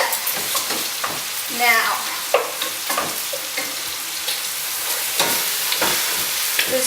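Bolognese meat and bacon browning in a pan, a steady close sizzle and crackle with occasional scrapes and stirring clatter, while a person speaks briefly over the cooking.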